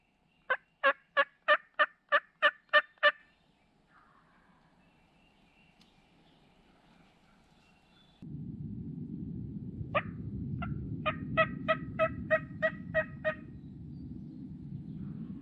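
A wild turkey gobbler gobbles repeatedly in the Tennessee mountains, in rapid rattling bursts of about eight notes, then a second bursty run later over steady wind or rushing-water noise, fairly clear and mid-distance.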